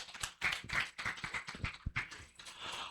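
An audience applauding at the end of a book launch event, a quiet scattering of individual hand claps in an uneven rhythm that fades toward the end.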